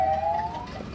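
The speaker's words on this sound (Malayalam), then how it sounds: "ആംബുലൻസ് പോകണം." An ambulance siren wails with a falling tone as it passes along a street during a shopping outing, loud at first and then sliding lower into the background traffic rumble.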